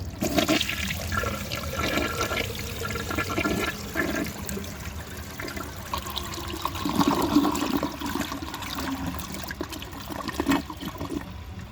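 A 1973 Eljer Hi-San low tank toilet flushes with a loud, steady rush of water that churns and gurgles for over ten seconds without letting up, with no voices over it.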